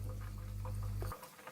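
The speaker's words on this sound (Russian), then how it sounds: "Так продолжаю жарить." Turkish baking-powder pastries sizzling in hot oil in a pan, a steady frying hiss that cuts off abruptly near the end, fairly quiet.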